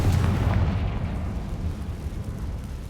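A Confringo blasting spell explodes in Hogwarts Legacy, a loud close boom with a low rumbling burst that fades into a lingering roar.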